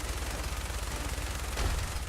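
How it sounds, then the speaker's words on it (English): Rapid gunfire from a Fallout 4 firefight, a dense continuous volley of shots fired into a wall, loud and steady throughout with a sharper burst near the end. "Oh god, I'm shooting at the wall."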